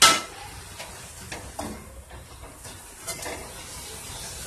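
Chicken and three kinds of vegetables are stirred together in a pan for macaroni, giving soft scraping and light clinks of a spoon against the pan at a low, steady level.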